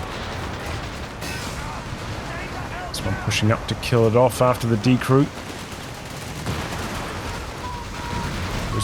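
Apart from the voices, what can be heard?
long-range artillery barrage in Company of Heroes 3 video game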